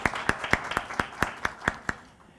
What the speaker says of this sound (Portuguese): pedir uma salva de palmas para a palestra